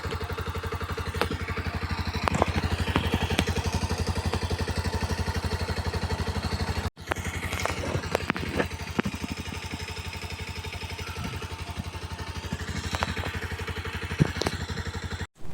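A motorcycle with an earlier starting problem, now running after a start, idling with a steady, close, even engine thrum that continues without a break apart from a brief gap, with light clattering on top.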